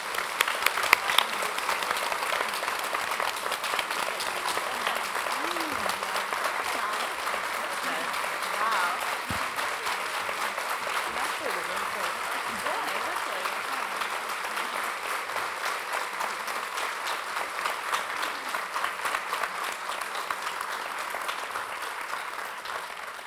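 Sustained audience applause fills a ceremony hall for the 2013 International Nurse Researcher Hall of Fame honorees in Prague, steady dense clapping lasting over twenty seconds with a few louder claps at the start.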